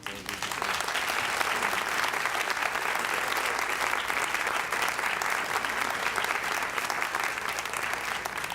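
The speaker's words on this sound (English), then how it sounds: "I would like to give him a round of applause before we begin" Applause fills a performing arts venue before an evening reading, with a full audience clapping densely and evenly from the opening moment to the end, loud and sustained without a break.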